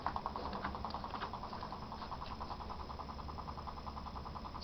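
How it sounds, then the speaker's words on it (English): Small homemade motor driven by a simple exciter hums faintly with a steady, rapid pulsing whir, quiet and continuous against background hiss, with no voices. "that's what you're hearing there is penny number two running on a signal excitation into this"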